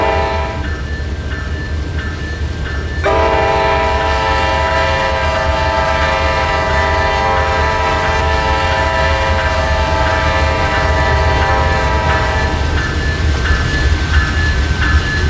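A train in a railroad video game rolls by steadily and loudly, its long sustained horn sounding for most of the pass before cutting off, with a continuous rumble and faint rail clatter underneath.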